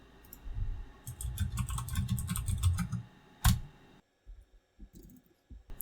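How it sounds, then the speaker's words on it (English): Quick, close keystrokes as a command is typed on a computer keyboard, a busy run of clicks followed by a few scattered taps after a short pause, with no one talking. "I just type go run main.go"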